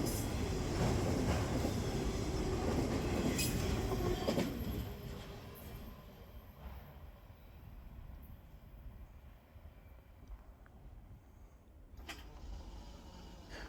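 A long freight train hauling shipping containers and new automobiles rolls past at night, a steady loud rumble and rattle of wagons and wheels that eases off midway and continues more faintly, with occasional squeals and clanks.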